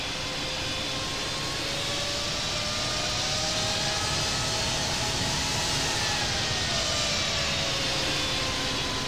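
An airliner's jet engines drone steadily during pushback at Hong Kong International in the Infinite Flight simulator, a loud, continuous broadband roar with faint whining tones that drift slightly in pitch, with no voices.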